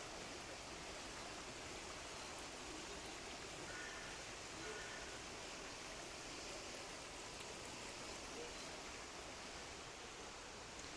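A river flows through a forest park, making a steady, broad rushing wash of water that stays constant and fairly faint from start to finish, with no talk.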